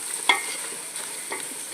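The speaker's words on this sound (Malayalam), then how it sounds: "സവോള നല്ലതായിട്ട് വഴന്ന് വരണം." Onions sauté in a pan for biryani, giving a close, steady hiss and sizzle with a few soft stirring scrapes over a short stretch.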